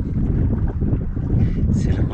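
Steady wind rumbles and buffets against the microphone on a sailboat off the coast of Brittany, loud and close, with faint talking mixed in.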